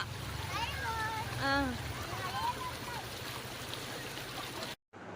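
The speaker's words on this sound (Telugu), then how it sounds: "చూడండి వాటర్ ఎంత హెవీగా వస్తున్నాయో చూడండి ఎన్ని నీళ్ళు వస్తున్నాయో" Heavy floodwater from the rains in Anantapur's Shilpa Lepakshi Nagar venture rushes in a steady, low roar while people talk over it, before the sound cuts off abruptly.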